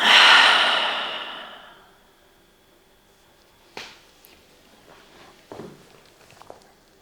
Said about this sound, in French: Et on va faire une grande inspiration par le nez. Expire.